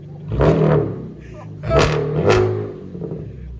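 A 2014 Chevy Camaro V6 with straight-pipe true dual exhaust revs in three sharp, loud bursts that climb and fall over a rumbling idle.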